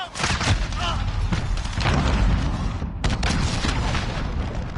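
Cruise missile explosions in Call of Duty: Modern Warfare, a dense barrage of loud booming blasts and rumbling impacts rolling on without pause, with a short dip before another heavy wave of detonations.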